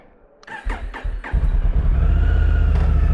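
A Honda NT1100 motorcycle engine starting in the dark early morning: a few cranking pulses, then the engine catches and settles into a loud, steady close idle rumble.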